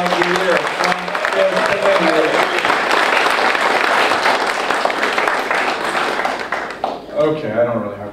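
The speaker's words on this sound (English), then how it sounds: "let's give Jeremy a big round of applause" Loud, dense applause at a senator's town hall fills the room for the librarian of the year, tapering near the end as voices come through.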